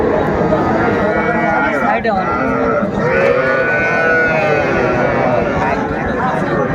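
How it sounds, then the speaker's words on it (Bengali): Cattle, including young bulls and heifer calves, lowing close by, several drawn-out moos overlapping amid a busy background of voices and farmyard noise. "আরেকবার গরুগুলো একটু দেখি"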